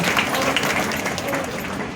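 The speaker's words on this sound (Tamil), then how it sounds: "பெரிய கைத்தட்டல் சாருக்கு" An audience at a World Heart Day health talk breaks into a loud, close burst of clapping that continues steadily throughout, with some voices mixed in.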